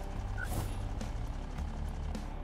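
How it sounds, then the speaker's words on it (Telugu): Bus engine idling in the Watch Dogs 2 video game, a steady low rumble that holds evenly throughout, with faint higher mechanical whines and clicks above it and no voices. "బస్ అయితే ఇంజన్ స్టార్ట్ అయింది గాయస్."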